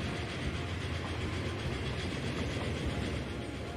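A train runs in Transport Fever 2, with a dense, continuous rumble and rolling wheel noise that holds steady throughout.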